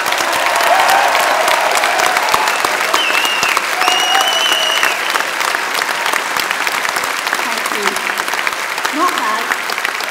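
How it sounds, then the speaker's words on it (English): A large graduation-ceremony crowd at a Milton Keynes degree ceremony applauds steadily for about ten seconds, dense continuous clapping with a few whoops and voices rising through it. "let's give them a huge round of applause."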